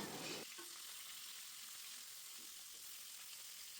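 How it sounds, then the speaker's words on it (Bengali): Flipped rohu fish pieces from a pond keep frying in oil, an even, continuous hiss and crackle heard close but fairly quiet, with faint stirring underneath and no voices. "মাছের এক পাশ ভাজা হয়ে গেছে, এখন আমি অন্য পাশটা উল্টে দিচ্ছি।"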